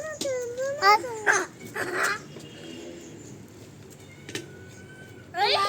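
A cat meows a few times between short calls, fairly close, with quiet gaps and a final louder meow at the end.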